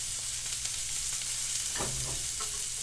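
A steak fries in a pan while a cheesesteak grilled cheese is being made, giving a steady close sizzle and crackle with a few brief scraping stirs.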